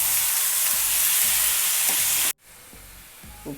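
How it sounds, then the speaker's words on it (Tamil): Tomatoes with turmeric and salt fry in a pan, sizzling loudly and steadily while a spoon stirs in regular rhythmic scrapes; the hiss cuts out abruptly partway, then quieter stirring thuds continue. "தக்காளியும் போட்டு மஞ்சள்தூள் கொஞ்சம் போட்டு உப்பு போட்டு கிண்டி விடணும்."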